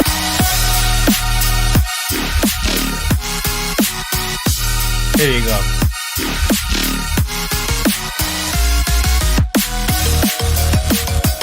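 A drum and bass track plays loud and continuous, with dense layered synths, punchy beats and brief drop-outs to silence near two and six seconds.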